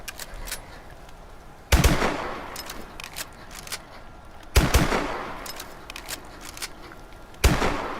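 Single heavy shots from the NA-45 gun in Call of Duty Advanced Warfare, three loud blasts spaced a few seconds apart, each decaying into a short rumble over quieter game ambience.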